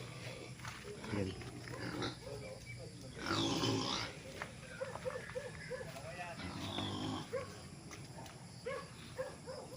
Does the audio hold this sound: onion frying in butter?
no